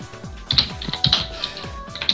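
Quick, uneven computer keyboard typing during a Persona 4 Arena Ultimax fighting-game tournament stream, with crisp close keystrokes in short bursts and a low hum behind them.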